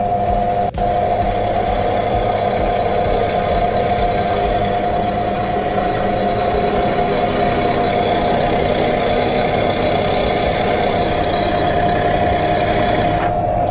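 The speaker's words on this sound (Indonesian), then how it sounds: "Kemudian kita nyalakan. Saya menggunakan RPM terendah di 600-an RPM." A Yasuka YDP-013A bench drill runs at its lowest speed of around 600 RPM, giving a steady, continuous mechanical hum and whine that stays even throughout, close and fairly loud, with one brief click near the start.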